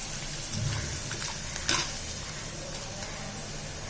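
Corn poha flakes fry in hot oil with a continuous, moderately loud sizzle and bubbling, broken by a few sharper crackles and stirring scrapes.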